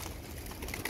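A single pigeon gives a brief, faint coo, heard quietly against low background noise.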